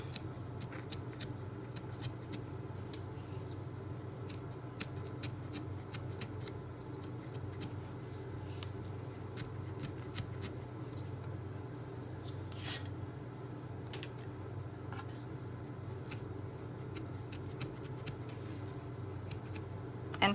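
An X-Acto knife cuts out a shape in Fast and Final lightweight spackle with quiet, repeated scraping and clicking strokes over a constant low hum.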